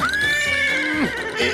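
A horse in a Garfield cartoon gives a loud, close, drawn-out whinny that rises and wavers, with hoof-like clops and cartoon background sound beneath.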